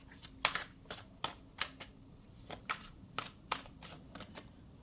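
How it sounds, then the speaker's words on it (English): Playing cards are shuffled close by in a quick series of crisp riffling bursts, repeating in an uneven rhythm against a quiet background. "Do one more shuffle."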